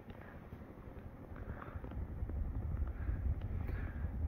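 A Hampton Bay Glendale 52-inch ceiling fan running at high speed, a steady soft whooshing air rush with a faint rhythmic swish, quiet and continuous with no voices.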